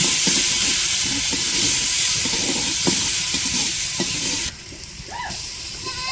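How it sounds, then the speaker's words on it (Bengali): Onions fry in hot oil in a pot for khichuri with a constant close sizzle, broken by occasional stirring clicks. The sizzle drops quieter about two-thirds of the way through. "এখন হচ্ছে পেঁয়াজগুলো ভাজা ভাজা করে নিব"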